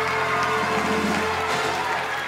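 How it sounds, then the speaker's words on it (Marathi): A comedy show's studio audience applauds for a protein shake, a steady dense clapping wash with crowd noise, loud and sustained throughout. "एकदा जोरदार टाळ्या या प्रोटीन शेक साठी."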